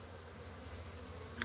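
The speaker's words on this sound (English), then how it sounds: "Could be robber bees, but I don't know what they're robbing out" Robber bees buzz around a dead-out beehive, a faint continuous insect hum with no voices.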